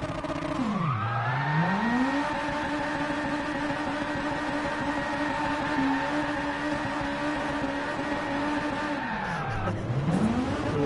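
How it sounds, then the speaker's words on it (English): A high-revving race car engine in the video game Gran Turismo Sport drones steadily and loudly, its pitch dipping sharply near the start and again near the end as it shifts or slows. "I love the sound of that engine"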